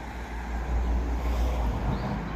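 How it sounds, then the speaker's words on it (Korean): On a busy road, cars pass in a continuous low roar of traffic, a steady rumble with no distinct voices. "도로에 차 소리가 많이 들려요"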